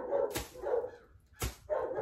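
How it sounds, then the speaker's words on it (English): Dogs bark indoors in two short, loud bursts over a continuous noisy background. "Sorry, my dogs are being very bad."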